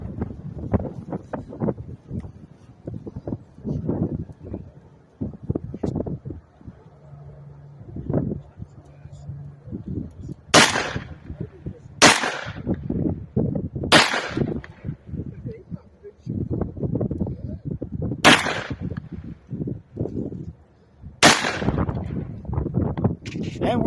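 A 5.56 rifle fires five sharp, loud single shots outdoors at uneven intervals, amid heavy gusting wind noise, with people talking between the shots.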